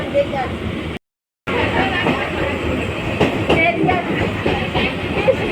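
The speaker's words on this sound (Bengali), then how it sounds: "তো এই দেখো গড়িয়া স্টেশনে ট্রেন ঢুকে গেছে।" A train pulls into Garia station with a steady rumble and rattling rail noise throughout, broken by one brief gap.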